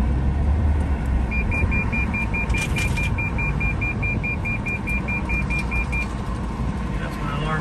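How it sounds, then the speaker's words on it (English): A car's brake warning alarm sounds while driving on the Fuller Warren Bridge in Jacksonville, Florida: a rapid run of steady high beeps over loud road and engine noise. "That's my alarm going off telling me I need to brake."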